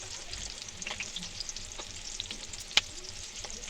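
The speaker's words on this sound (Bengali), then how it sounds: "এবার ভাজা চলছে" Fish roe fritters frying in hot oil, a faint continuous sizzle dotted with small pops and crackles, including one sharp louder crack near the end.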